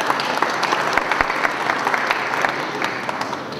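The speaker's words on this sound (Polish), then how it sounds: "Brawa." An audience at an agribusiness awards gala applauds steadily, a dense even wash of clapping from a large crowd in a hall, with a few sharper claps standing out near the front.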